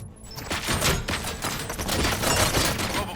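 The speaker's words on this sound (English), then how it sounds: "Gunshots? What's going on?" Rapid gunfire during a RoboCop scene, a dense, continuous barrage of shots filling the whole stretch at steady loudness, with no clear speech over it.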